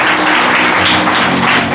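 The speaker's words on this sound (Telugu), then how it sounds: "గట్టిగా ఇప్పుడు చప్పట్లు కొట్టండి" An audience claps loudly and continuously at a Christmas festival gathering in Anantapur. The applause is dense, steady and close, with no voices over it.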